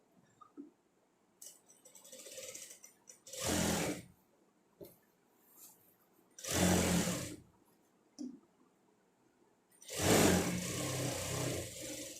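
A sewing machine stitching churidar fabric, running in three loud bursts of whirring several seconds apart, with quieter handling clicks and fabric rustle in the pauses.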